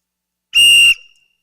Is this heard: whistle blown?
yes